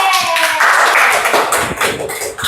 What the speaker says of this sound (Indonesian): Oke, beri applause dulu.